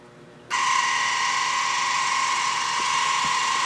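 Water softener control valve starting its regeneration cycle: after a brief quiet moment, a loud, steady motorized whine with a high electric hum switches on and runs continuously, with a couple of faint clicks as internal parts shift.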